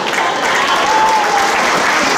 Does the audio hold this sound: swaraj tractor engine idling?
no